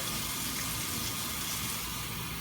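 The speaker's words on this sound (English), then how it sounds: "Alright, so we're going to rinse off the meat here." Tap water pours in a loud, steady rush over cooked lean ground beef being rinsed in a sink, constant and close with no pauses.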